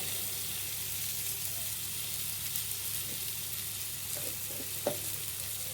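Spices frying in hot oil with salt and turmeric for a spicy Bengali eggplant and prawn dish, a soft continuous sizzle with occasional light stirring clinks, no voices.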